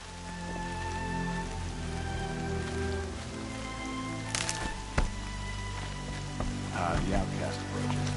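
Steady rain falls across the open landscape of the video game Horizon Zero Dawn, a soft, continuous patter under low ambient music, with a few brief sharper knocks and a voice or two near the end.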